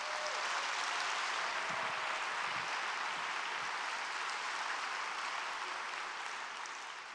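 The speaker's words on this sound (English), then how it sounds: "let's give everyone involved in these projects a big round of applause" Sustained audience applause at a city's State of the City address, a steady wash of clapping from a large crowd that holds even throughout and tapers slightly at the end.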